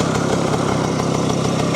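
A 1968 Vespa 150 Sprint scooter's small two-stroke engine running close by, a loud, steady buzzing putter with an even rapid pulse and no talking.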